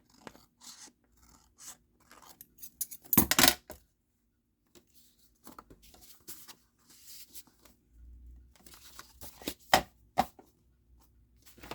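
Scissors trim paper pages being prepared as a signature for hand bookbinding, giving a few quiet, sharp snips and papery rustles spread across the clip with pauses between them and no talking.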